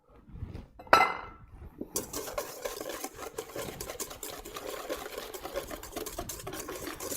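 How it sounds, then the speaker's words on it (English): Egg yolks and sugar being whisked in a bowl give a quick, continuous clinking and scraping rhythm, close and moderately quiet, after a single sharp clink near the start. "with the egg yolks, we put 100 grams of sugar, just regular old sugar, and we will start whisking that"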